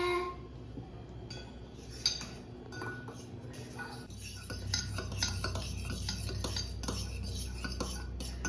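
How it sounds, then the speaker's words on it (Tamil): A fork stirs chicken with salt and pepper in a bowl, making rapid clinks and scrapes against the dish, close and fairly quiet, with a low steady hum underneath. "நல்லா ஃபோர்க் வச்சு மிக்ஸ் பண்ணி விட்டுக்கோங்க"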